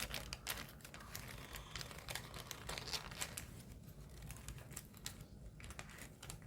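Paper crinkles and creases close by while a ninja spinning top is folded, with a grip piece tucked into a folded frame core; the soft, irregular rustles and taps run steadily without speech.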